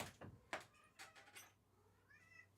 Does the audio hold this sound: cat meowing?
yes